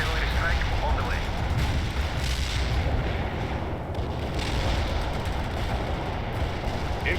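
Artillery barrage landing in snowy terrain in World in Conflict: Soviet Assault, a dense continuous rumble of distant shell impacts and booms, with game radio voices talking over it.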